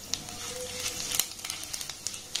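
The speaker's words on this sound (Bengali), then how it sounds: "এবার এই উপকরণটা একটু নাড়াচাড়া করে ভেজে নেব।" Whole spices (clove, cinnamon, dry chilli, bay leaf) sizzling in hot oil in a pan, a soft steady fry with scattered small pops and crackles, close and quiet.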